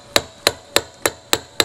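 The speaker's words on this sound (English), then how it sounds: "I'm going to use a hammer and a chisel." A hammer drives a chisel against a fuel tank strap during an electric fuel pump replacement: six sharp, evenly spaced metallic blows, close and loud, with brief ringing after each.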